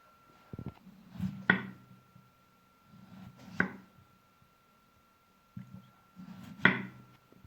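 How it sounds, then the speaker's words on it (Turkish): Tomatoes sliced thinly on a wooden board: three sharp knife chops landing at slow, even intervals, each preceded by softer sawing scrapes, close and clear with no voices. "Domateslerimizi ince ince doğruyoruz patateslerimiz gibi."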